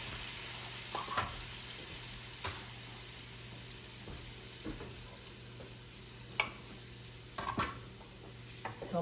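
Garlic and wine sizzle quietly in a pan, a low steady fry hiss under a few light clinks and stirring knocks, soft and close, with no voices.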